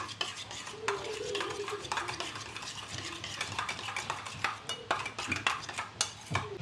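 Chipotle sauce mixture stirred in a bowl with a utensil, repeated scraping and clinking taps against the side, close and fairly quiet with no talking.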